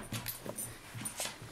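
Indoors in a house shared by several dogs, one dog lets out soft, repeated whimpers and little yips in short bursts, fairly faint and close, with no talking.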